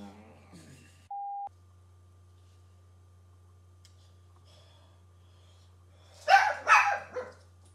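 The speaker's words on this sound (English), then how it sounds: "Dog." A dog barks a few times in quick succession, fairly close and clear, after a short electronic beep and long quiet stretch.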